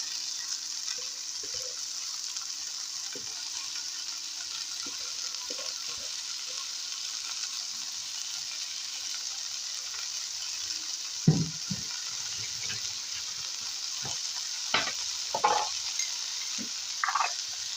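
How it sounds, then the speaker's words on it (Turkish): Madımak greens being stirred into roasted tomato paste in a pan, giving a steady soft sizzle with scattered scrapes and clicks of the spoon, louder bursts near the end. "Salçamız kavrulduktan sonra şöyle madımaklarımızı içine alıyoruz."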